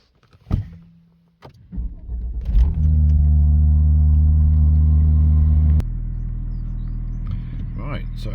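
A car engine idles and then rises to a loud, steady drone while driving, with a sharp start transient before it and a deep continuous rumble throughout.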